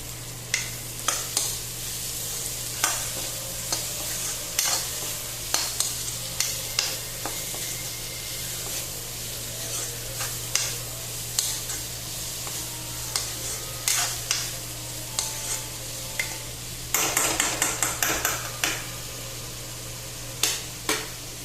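Pumpkin sizzles steadily in a hot pan while being cooked for a fish curry, with frequent scraping clicks of a spatula stirring it, loud and close, no voices.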